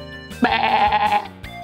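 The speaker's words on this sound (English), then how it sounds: "Yeah, this animal is a sheep." A single sheep gives a clear, close bleat lasting about a second, with a quieter bleat following and no talking.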